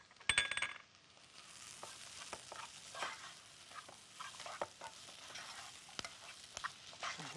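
Stock cubes with salt and pepper are stirred in a hot pot, a spoon scraping and clinking irregularly against the metal over a soft, continuous sizzle.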